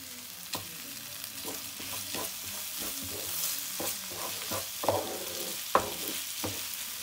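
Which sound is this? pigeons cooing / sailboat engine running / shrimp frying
shrimp frying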